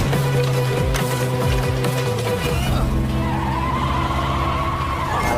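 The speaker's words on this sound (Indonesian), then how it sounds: "Inilah aksi pertempuran Jai dan Sakir dengan menggunakan motor" Motorbikes race along a road during a film chase scene, engines droning loudly with tires skidding and squealing throughout.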